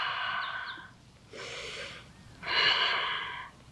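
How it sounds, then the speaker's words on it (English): Deep, slow breaths during a yoga session, three long audible inhales and exhales in a steady rhythm, close and fairly loud with nothing else around. "Breathe deeply here."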